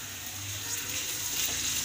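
Ginger paste fries in a pan for a tomato chana dal curry, giving a steady, close hiss of sizzling oil with no talk.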